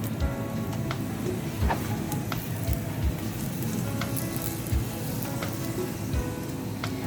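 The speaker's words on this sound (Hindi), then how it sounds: "डालते हैं घी थोड़ा सा, और ऊपर भी ऐड कर देंगे थोड़ा सा घी। अच्छे से हम इसको लाल होने तक सेकते रहेंगे" Besan roti roasting on a pan with ghee spread on it, a constant dense sizzle with a few soft taps and scrapes, close and steady, no voices.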